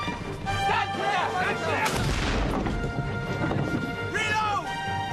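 A ship's cannon booms out a warning shot on a sailing warship, a heavy blast rolling out amid shouted orders and crew voices that talk over the din before and after.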